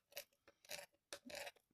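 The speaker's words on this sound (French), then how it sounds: "J'utilise le plat des ciseaux." Flat of a pair of scissors scraping and rasping underneath plastic packaging, a few short bursts of close, quiet scratching with brief pauses between.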